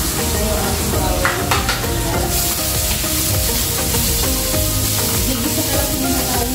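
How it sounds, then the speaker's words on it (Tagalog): Ingredients sautéing in a pan, a steady loud sizzle of frying with stirring scrapes throughout, continuous and close, with no voices. "Gigisa na lang muna tayo"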